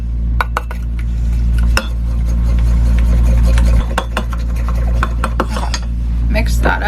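A spoon clinks and scrapes around a pot while hot sauce is stirred into lasagna soup, the sharp taps coming irregularly over a loud, steady low hum.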